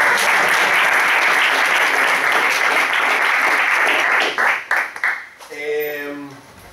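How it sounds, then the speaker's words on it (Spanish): Loud, dense applause from a crowd fills most of the stretch, then fades out as a voice begins speaking over the tail end. "Y un aplauso para Jordi, por favor."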